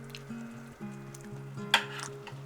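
Cola reducing with doenjang in a pan over high heat for a jjajang-style sauce, a soft steady sizzle and bubbling, with a faint clink of a utensil against the pan partway through.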